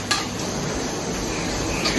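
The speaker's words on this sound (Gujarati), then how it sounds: "ધીરા તાપે ફ્રેન્ડ્સ તળીશું આપણે એને" Samosas fry gently in oil over a low flame, giving a steady, soft bubbling sizzle that runs evenly throughout with a faint clink near the start and end.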